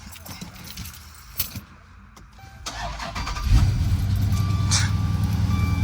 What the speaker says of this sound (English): The car got mad quiet though.